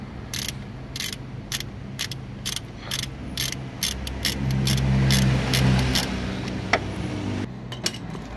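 Ratchet wrench loosening the 12 mm bolt that joins the bracket and alternator on a Mitsubishi Lancer, a rapid run of sharp metallic clicks in short bursts, close and fairly loud, with a steadier low hum beneath midway.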